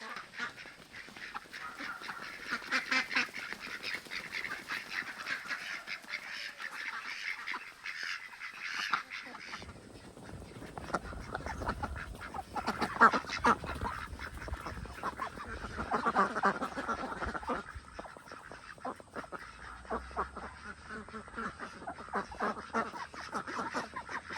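Ducks quack and honk in a noisy group outdoors at a pond, with a person talking intermittently among the calls.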